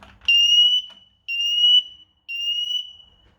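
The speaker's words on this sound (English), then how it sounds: "So let's test the smoke alarm present in the hallway." A smoke alarm in a house hallway sounds three loud, shrill electronic beeps, each lasting about half a second, with a short gap between them and no talk.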